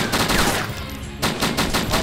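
Gunfire in the survival video game DayZ: a rapid burst of loud, close shots, a brief pause near the middle, then another burst of repeated cracks, with no talking.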